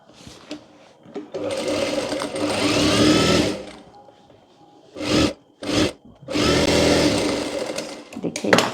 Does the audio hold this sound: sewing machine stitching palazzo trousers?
yes